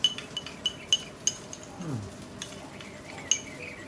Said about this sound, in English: we're going to just mix that around a little bit so that I can dissolve the sugar